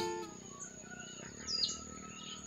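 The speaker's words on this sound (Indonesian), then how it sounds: "biasanya burung cigun berbunyi seperti itu ya" A cigun bird calls near its nest with faint, high chirps and a short twittering burst midway, outdoors over soft insect-like background noise.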